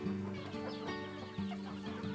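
Chickens cluck steadily and close by, several birds overlapping in a continuous busy stream with a louder burst partway through, gifted hens kept for a family's livelihood.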